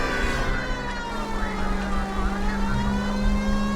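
A police car siren wails steadily in the L.A. Noire video game, a sustained tone over engine and traffic noise while the car drives, with no voices during the sound.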